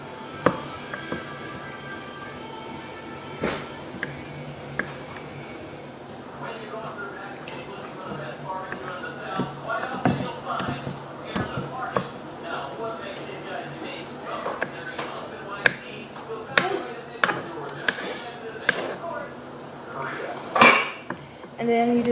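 Onion being chopped with a knife on a board for guacamole, giving close, irregular taps and knocks along with some clatter of kitchenware, while a person talks throughout.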